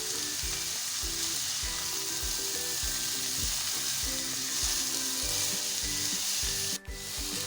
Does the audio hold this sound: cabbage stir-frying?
yes